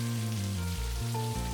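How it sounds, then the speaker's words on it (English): Steady rain falls in the video game Necrobarista, a continuous soft hiss under a low, shifting musical drone, with no voices. "Just try and enjoy the rain."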